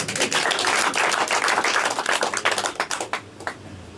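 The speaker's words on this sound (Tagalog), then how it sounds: "Palakpak mo natin sa Lord." A church audience claps together for the Lord, a dense burst of many hands applauding nearby, fast and steady before thinning out and fading.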